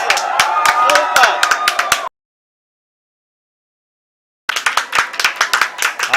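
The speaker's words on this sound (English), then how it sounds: "People are applauding." People clapping as India's Chandrayaan 3 lander touches down on the moon, bursts of close hand claps and chatter that stop abruptly for a couple of seconds of silence, then resume just as loudly.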